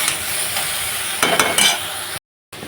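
Vegetables sizzle in a hot pan as turmeric is stirred in, a steady broadband frying hiss with a few scraping stir strokes, then a brief drop to silence before the sizzle returns.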